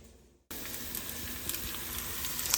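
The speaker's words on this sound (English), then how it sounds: "I'm just sauteing some peppers, onions, and mushrooms" Peppers, onions and mushrooms saute in a pan. After a brief quiet start, a bright, hissing sizzle cuts in abruptly and holds steady and close, with faint crackles throughout.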